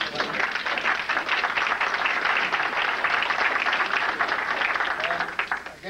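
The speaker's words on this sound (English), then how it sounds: "I think you all deserve a hand of applause." Sustained applause from a crowd gathered at a high school reunion evening, a dense, steady wash of many hands clapping at even loudness for about six seconds without a break.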